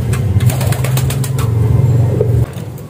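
Released racing pigeons take off with a rapid flurry of flapping wings close by, loud and continuous for a couple of seconds before suddenly falling away.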